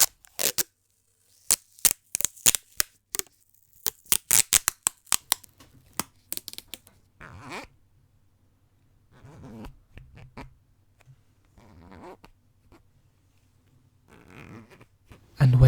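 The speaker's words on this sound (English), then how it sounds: "you hear that someone is tying you up with tape and zip ties" Close ASMR handling of tape and zip ties: a rapid series of sharp ratcheting clicks and rips, then a quieter stretch of intermittent crinkling and stretching tape with a low hum beneath.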